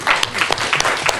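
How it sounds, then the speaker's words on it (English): Audience applause at an evening League of Women Voters general election candidate forum, a dense wash of clapping from a seated crowd, fairly loud and steady, with no talk over it. "May we have a round of applause for them."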